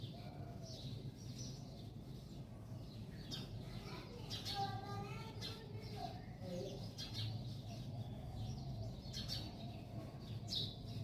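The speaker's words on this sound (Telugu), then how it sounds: "బర్డ్స్ అరుస్తున్నాయి." Birds chirp and call repeatedly around a home garden with mint and betel leaf plants in the early morning, bright overlapping tweets at moderate distance over a steady low background hum.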